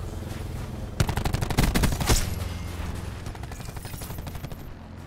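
Rapid automatic gunfire in the Call of Duty Black Ops 4 video game, dense bursts of shots from about one second on, loudest around the two-second mark, then continuing as a steady rattling volley.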